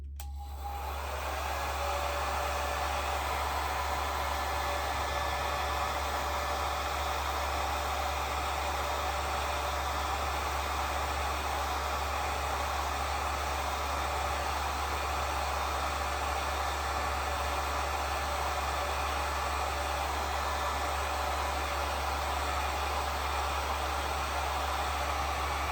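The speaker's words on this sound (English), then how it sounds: "If you want to put your sound down when I do the dryer, you can." A hair dryer blows steadily on watercolor paint for the whole stretch, a constant close airy whoosh with a faint motor whine and no talking.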